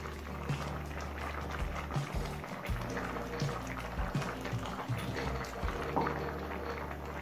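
Oats and mixed vegetables bubble and simmer in a pot over a high flame, a soft, steady boiling gurgle with faint irregular pops, heard quietly throughout.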